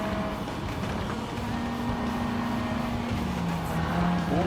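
A 1998 Mitsubishi Lancer Evolution V GSR races in a VR driving game, its engine droning steadily and loud throughout with a sustained tonal whine that shifts pitch near the end, no talking.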